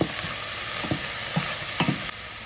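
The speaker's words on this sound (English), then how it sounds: "Stir it around." Cauliflower being stirred around a hot pan, a steady sizzle of frying running underneath with four or five distinct scraping strokes of the utensil, close and clear with no talking.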